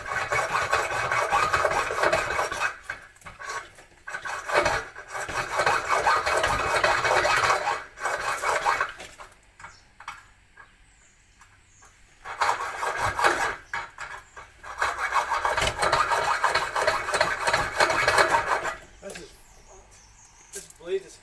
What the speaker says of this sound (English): Where's the hacksaw?